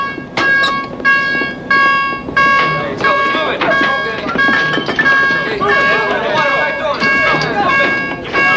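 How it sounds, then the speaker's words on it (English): A submarine's general alarm sounds as a loud, repeating electronic gong with evenly spaced pulses in a fast rhythm, with voices calling out beneath it. "Sound the general alarm."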